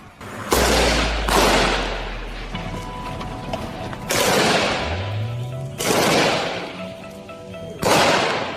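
Several heavy explosions from a drone strike boom one after another at irregular intervals, each a loud broadband blast with a long rumbling tail, close and powerful.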